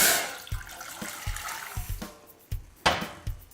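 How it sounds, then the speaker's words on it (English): Water running into a cooking pan, a splashing tap-like flow broken by a series of soft rhythmic thumps and knocks, close and moderately loud, with no voices. "put some water in a pan."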